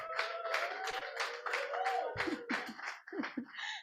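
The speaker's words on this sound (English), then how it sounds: "Please let me give a round of applause to her once again." A small group claps briefly, a quick patter of hands fading out after a few seconds.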